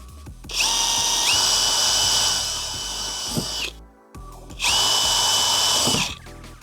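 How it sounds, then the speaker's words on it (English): A power drill whines at high speed drilling holes during a van electrical installation, in two long bursts, pausing briefly between them, close and loud with a steady grinding pitch. "and I know where to drill."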